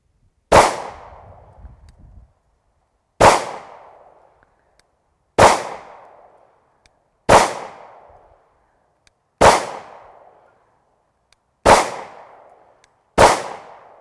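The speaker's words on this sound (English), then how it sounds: "So let's just start shooting." Seven sharp, loud 9mm shots from a Shield pistol at a shooting range, fired singly at an unhurried pace of about one every two seconds, each a crisp crack with a short decaying tail and quiet between.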